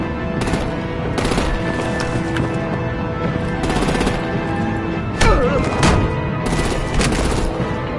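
Gunfire attacking vehicles in a Batman video game: loud bursts of automatic fire come in repeated volleys, with heavier impacts and crashes between them, close and intense throughout.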